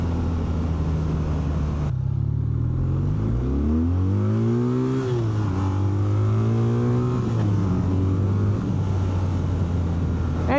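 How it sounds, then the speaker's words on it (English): A big BMW R12 nineT boxer twin motorcycle engine revs up and down repeatedly, its pitch rising and falling over a steady rumbling idle, loud and close with no talking. "a boxer twin, especially a big boy one like this"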